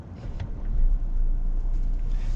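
The T6 engine of a 2020 Volvo XC60 Inscription idles with a low, steady rumble, smooth and even, heard alone at close range.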